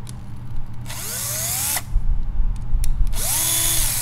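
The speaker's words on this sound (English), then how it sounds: "use my power driver to keep this video just a little bit shorter" A power driver whirs in two short bursts while backing T10 Torx screws out of a knife handle, each a high motor whine with a rising pitch sweep, separated by a brief pause over steady background hum.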